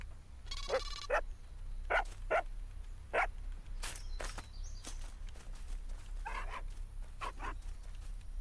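Dogs bark in the survival game ASKA, giving a handful of short, separate barks and yips over a low steady background hum, interspersed with soft footstep-like taps.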